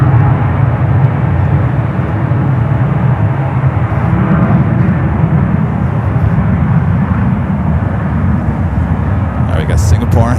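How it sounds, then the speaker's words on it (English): Alaska Airlines Boeing 737-900ER arriving from Seattle at San Francisco airport, a steady loud low jet roar filling the whole stretch, with a voice talking over it. "Next arrival is Alaska, flight 725, coming from Seattle, 737 900"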